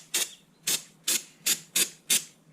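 Grease is rubbed onto the shifter parts of a Ford Focus RS during a short-throw shifter install. Six soft, evenly spaced smearing strokes are heard up close and quiet.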